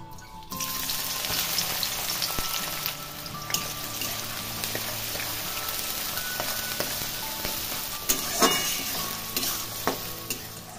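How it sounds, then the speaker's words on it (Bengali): Chopped onions fry in white oil in a wok with bay leaves and cardamom, a steady close sizzle with stirring scrapes and occasional louder crackles throughout, no talking. "এখন দিয়ে দেব কুচিয়ে রাখা পেঁয়াজ।"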